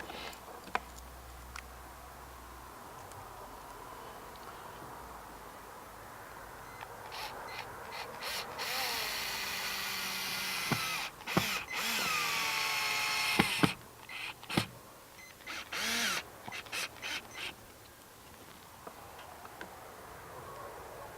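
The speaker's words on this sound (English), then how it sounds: "I'm gonna go ahead and just install these screws in here." A power drill drives screws into the mounting bracket of a 1700-lumen patio security light, with short whirring bursts and a longer rising whine mid-way, close by against a quiet background.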